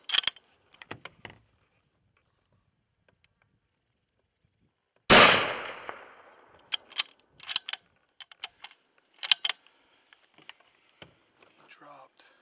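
A single loud rifle gunshot cracks out while hunting on a South African safari, with a sharp attack and long decaying tail, surrounded by scattered clicks and brief outdoor sounds.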